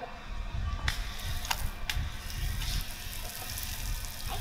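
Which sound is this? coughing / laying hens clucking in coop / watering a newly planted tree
watering a newly planted tree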